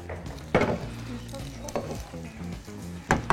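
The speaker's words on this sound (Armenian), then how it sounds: "Դե թող մի քիչ տապակվի գոնե" Food sizzles and fries in a pan on maximum heat while being stirred, with scraping utensil strokes against the pan and clinks of cookware, close and continuous through the short stretch.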